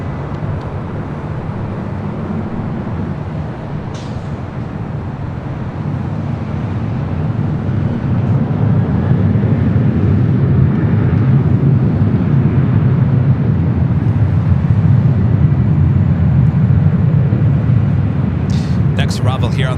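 An airliner taking off from runway 24 Left at LAX gives a broad, distant roar that builds and swells over the seconds amid wind noise, with a voice talking over it.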